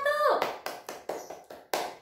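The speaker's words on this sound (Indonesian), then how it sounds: "Tepuk tangan untuk kelompok 1." Students in a classroom clap in unison, a short, close rhythm of about five or six sharp, separate claps, following a voice at the start.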